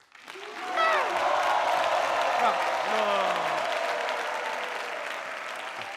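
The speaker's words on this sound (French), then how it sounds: "applaudissez-moi pour les femmes" Applause from a comedy club audience fills the room, rising quickly and holding steady as a dense wash of clapping, with a voice calling out briefly over it near the start.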